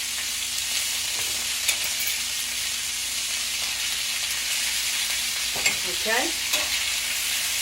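A pot of red beans with parsley simmers and sizzles steadily at close range, a continuous bubbling hiss broken by occasional spoon scrapes against the pot; a brief spoken word sits under it.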